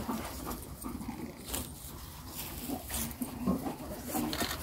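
A police sniffer dog searches a car for explosives at a checkpoint, with close, quick sniffing and panting bursts under intermittent human talk and faint jangling.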